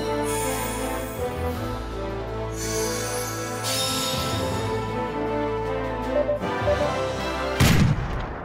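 Golden gun gunfire in the Deadstorm Pirates arcade shooter, a dense barrage of booming shots over game music and effects, ending in a loud blast near the end.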